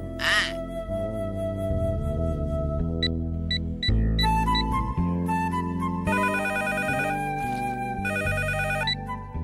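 A telephone rings with a bright, repeating electronic ringtone melody, loud and close, running in distinct bursts throughout with no talk over it.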